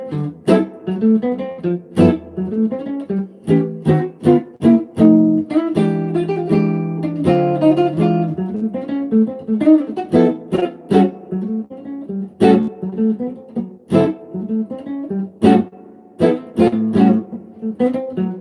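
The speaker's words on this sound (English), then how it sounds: "It's basically a blues using block chords." A guitar plays a blues in A with block chords, struck in punchy rhythmic stabs with short gaps between them, clear and close with no voices.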